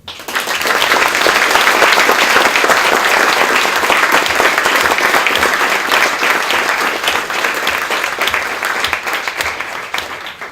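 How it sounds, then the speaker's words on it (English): Sustained, loud applause from a full room for a panel at a political prisoners event, the dense clapping swelling quickly and holding steady for about ten seconds before easing slightly. "I would like to thank our panel, and an applause, please"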